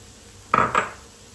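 Grated kaşar cheese stirred into floured eggplant in a pan, heard as two quick, close clinks of a utensil against the pan in an otherwise quiet kitchen.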